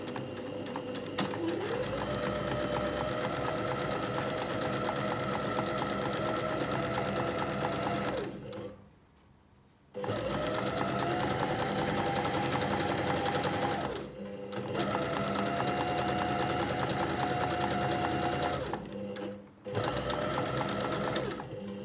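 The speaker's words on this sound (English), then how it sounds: "I'm going to start with some back stitch." A sewing machine runs in long steady bursts while back stitching the pinned edges of a reversible tote bag, with two brief pauses between runs; close and continuous, with no talk.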